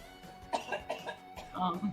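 A person coughs a few times in quick succession, close and fairly soft, during a tabletop roleplaying game session.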